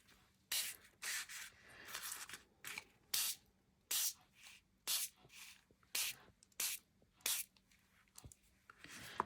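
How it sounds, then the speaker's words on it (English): Spritzer spray bottle misting paintable Anaglypta wallpaper, about a dozen short hissing bursts in an uneven rhythm, each separated by brief quiet pauses, close and fairly soft. "Let's try the spritzer instead."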